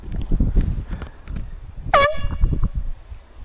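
A truck air horn sounds one sharp, loud honk that drops slightly in pitch, heard on a road trip between Surgut and Yeniseysk over a steady engine rumble.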